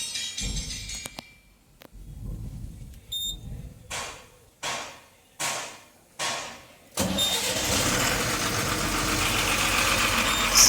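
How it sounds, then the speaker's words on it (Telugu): A car engine is cranked after a valve tappet adjustment at a mechanic's workshop in Vijayawada AutoNagar. Several short starter bursts separated by pauses come first, then the engine catches and settles into a loud, steady running roar. "ఇంజిన్ అయితే స్టార్ట్ చేస్తున్నాం చూడండి."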